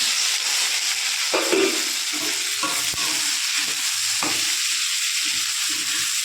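A spice paste of chopped onion, ginger paste, garlic paste and whole onions frying in a pan, a constant loud hiss and sizzle with occasional scraping stirs and knocks of the spoon, close and steady, no talking.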